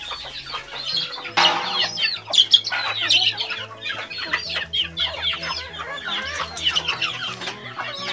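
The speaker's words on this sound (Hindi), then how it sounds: "ये हमारी मुर्गियाँ है, कैसे टमाटर खा रही है" Several desi chickens cluck and squawk close by while eating tomatoes, busy and continuous, with overlapping calls over a low rumbling background.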